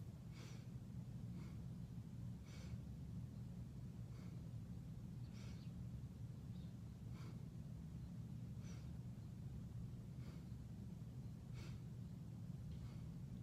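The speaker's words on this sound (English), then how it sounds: "focus on the shallow breathing of your collarbone" Short, shallow breaths drawn high in the chest at the collarbones during a yogic breathing exercise, repeating softly at a steady rhythm of roughly one every second and a half over a constant low background rumble, with no talking.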